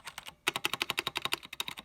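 Rapid clacking keystrokes ring out from a Cherry MX Board 3.0S corded mechanical gaming keyboard, a brief pause followed by a fast, even burst of crisp close-up key presses.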